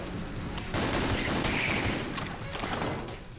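Plague pistol shots in Enter the Gungeon, a rapid volley of loud, rattling game gunfire with thumping impacts, continuous and dense before easing slightly toward the end.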